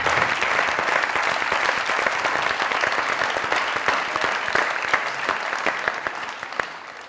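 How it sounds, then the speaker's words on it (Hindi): Standing ovation at a comedy show, a large studio audience clapping in a dense, sustained roar that holds strong for several seconds before tapering slightly at the end, with no speech over it. "जरा स्टैंडिंग ओवेशन प्लीज"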